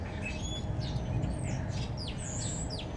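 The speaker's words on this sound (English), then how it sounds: "You know the beautiful birds singing?" Songbirds chirp and tweet in a repeated series of short, bright calls over a steady low outdoor rumble, fairly faint and with no talking.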